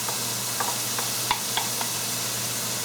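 Chopped onion sizzling steadily in a frying pan, with soft periodic taps and scrapes as two wooden spatulas stir it, close and even with no talk.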